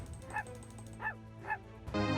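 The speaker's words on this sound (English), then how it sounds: "Oh, you get to pet the dog." A dog in the card game Vault of the Void gives three short, moderately loud yips or barks, spaced about half a second apart, over steady background game music.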